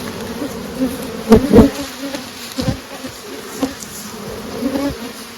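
A steady hum of honey bees fills the air around a small swarm hive of nurse bees and drones, with a few louder buzzing passes sweeping close by.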